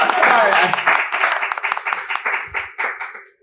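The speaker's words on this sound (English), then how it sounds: "Yeah, we can applaud." A workshop audience claps loudly and steadily, the applause then thinning out into scattered claps as it fades, with voices mixed in.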